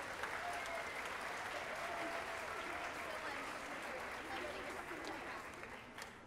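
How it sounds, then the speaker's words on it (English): An audience at a 5th and 6th grade spring band concert gives the percussion students steady applause, heard from a distance in a large hall and fading slightly toward the end. "how about a nice round of applause for the percussion kids"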